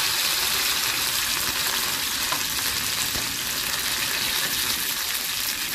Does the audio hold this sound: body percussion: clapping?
no